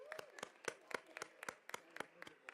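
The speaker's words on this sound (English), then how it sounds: "How about another round of applause for the Throwable Phantoms?" Sparse, regular handclaps from a small group at a school board of education meeting, faint and somewhat distant, with a few overlapping beats.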